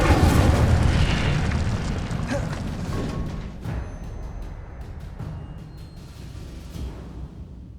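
The Incendio fire spell in Hogwarts Legacy on PS5 erupts as a loud, roaring burst of flame that slowly fades over several seconds, with faint crackles and clicks toward the end.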